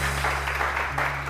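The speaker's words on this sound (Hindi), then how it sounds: "इनके लिए बहुत सारी तालियां" A studio audience on a morning television show claps in a brief, dense burst of applause over a steady low hum.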